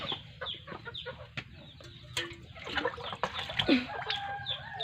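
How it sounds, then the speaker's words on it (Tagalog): Several chickens cluck and cackle nearby in a busy, irregular chorus, moderately faint with soft background noise. "Ang ingay ng mga alaga. Mga alaga namin, ang mga manok."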